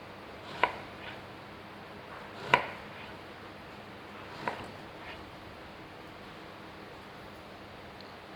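A knife cuts through soft eggplant and taps down onto a cutting board three times at slow, uneven intervals, each a faint, quick thud in a quiet room.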